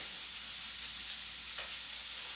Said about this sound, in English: to this, I'm going to add some fresh garlic